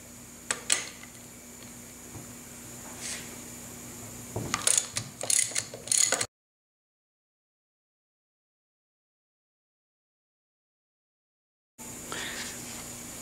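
A ratchet wrench clicks rapidly while loosening bolts on a Triumph Spitfire 1500 single-rail gearbox, close metallic ticking in bursts with clinks of tools, broken by a long silent gap before clicking resumes.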